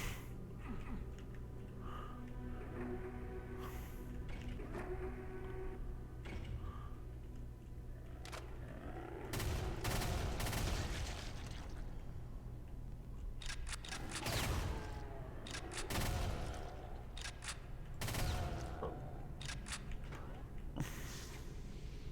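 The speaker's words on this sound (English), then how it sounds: "chain gun is a lot like the chain saw" Rapid bursts of chain gun fire in the first-person shooter Brutal Doom 64, heard as several loud clusters of shots separated by quieter stretches, with low game ambience continuing between volleys.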